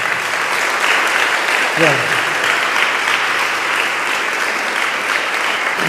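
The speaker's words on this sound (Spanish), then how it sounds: "Recibámoslo con un fuerte aplauso" An audience at a Catholic church gathering breaks into steady, loud applause that carries through the whole stretch, with a brief spoken word heard over the clapping.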